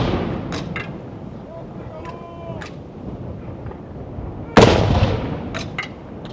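Ceremonial gun salute rounds fired one after another outdoors, heard as a big broadband blast midway followed by smaller bursts and rumble, with faint sharper cracks earlier over steady background noise.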